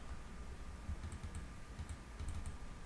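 Computer keyboard typing into website contact form fields, soft clustered key clicks in two short bursts over a steady background hum, close and quiet.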